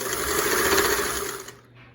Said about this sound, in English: now we're going to stitch in the left position